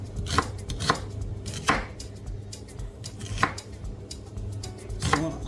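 An onion being cut into chunks for an oxtail stew, a knife thudding onto a cutting board in spaced single chops with short pauses between, close and distinct, with no talking.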